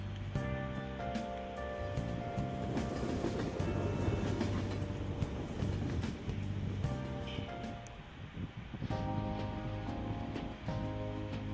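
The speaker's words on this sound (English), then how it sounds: "Do we take the usual train from Shibuya?" A train ride toward Ginza in the Persona 5 video game, with a rumbling rolling carriage sound and clattering, a brief lull midway before the steady rumble resumes, no voices.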